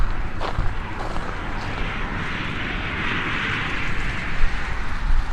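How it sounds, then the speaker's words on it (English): Steady broadband rumble and hiss of traffic passing on a nearby highway on a thawing winter day, continuous and fairly loud, with no talk over it. "Yes, you can hear the traffic going by."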